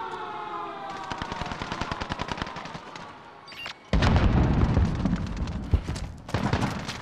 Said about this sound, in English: I heard that bullet was by me